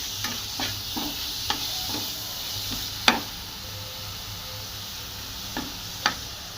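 Grated onion frying with fennel seeds in a pan over a low flame, a steady soft sizzle with occasional sharp stirring scrapes and clicks, close and moderately quiet, with no talking.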